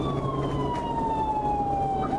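A police car's wailing siren sweeps slowly downward during a pursuit, sounding steadily over a low road rumble, moderately distant and continuous for the whole stretch.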